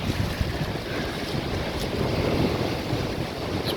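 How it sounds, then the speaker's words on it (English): Strong wind roars steadily through a forest on a gusty walk, a dense broadband rush with heavy low buffeting against the microphone and no pauses, loud and close throughout. "In the forest on my walk, fucking windy."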